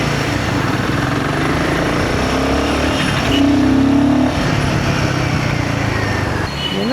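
A motorcycle being test ridden with a loose nut causing a light rattle, heard as a loud, continuous engine drone close by that swells briefly midway, with no talking over it.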